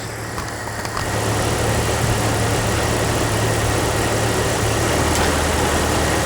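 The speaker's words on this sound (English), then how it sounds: "See, the clutch turned on. That's the clutch." A 1997 Jeep engine runs steadily with its AC compressor clutch engaging, a close, loud idling drone that thickens after a brief lighter start, with no talking.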